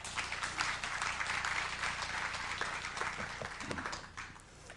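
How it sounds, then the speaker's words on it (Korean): A church or seminary audience applauds to welcome Professor Choi Hyung-geun before his lecture on missional ecclesiology; steady, moderately faint applause from many hands fills the room, thinning toward the end, with no speech on top. "박수로 우리 환영하시겠습니다."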